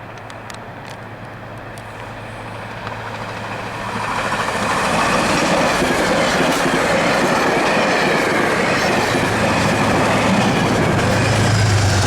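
A New Jersey Transit train pulled by two engines passes close by, its rumble building to a loud, steady roar with clattering wheels and a faint squeal.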